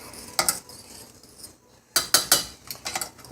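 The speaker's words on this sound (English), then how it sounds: "Now we're going to mix up all the flavors. Get it nice and mixed up." Brown rice stirred with olive oil and seasonings in a pan, the spoon scraping and clinking in short bursts, one near the start and a busier cluster toward the end, with no talking.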